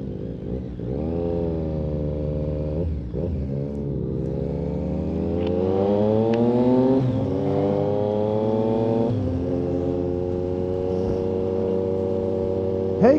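A motorcycle accelerating hard on its back wheel in a wheelie, engine note climbing through rising gears with brief shift dips, heard steadily from a nearby rider's helmet perspective.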